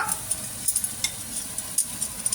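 Bacon lardons and mushrooms bubble and sizzle together in a pan, a steady soft hiss dotted with small popping bursts, close and fairly quiet, with no voices.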